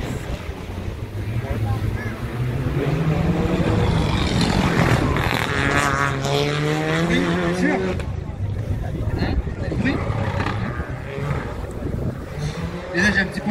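A Renault Clio Rally4 rally car races past at the 2023 Rallye du Chablais, its engine note rising and falling as it passes, over wind noise and someone commentating.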